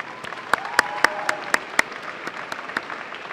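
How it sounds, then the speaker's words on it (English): Scattered audience clapping at a youth enrichment day event, a handful of loud, distinct near claps standing out over thinner background clapping, with a faint voice-like tone running underneath. "Please give those folks a round of applause."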